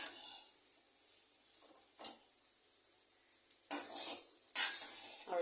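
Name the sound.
stirring fish and egg podimas in pan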